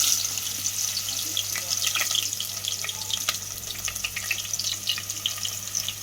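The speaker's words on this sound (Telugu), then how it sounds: "సో ఉల్లిపాయలు వేస్తున్నాం మనం" Onions dropped into well-heated oil for an Andhra fish curry fry with a soft, steady sizzle and scattered crackles, close but fairly quiet, with no talking.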